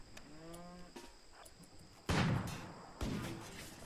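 Cows in the Rimworld video game mooing while attacked, a low, wavering moo at the start, followed by two sudden loud bursts of impact noise.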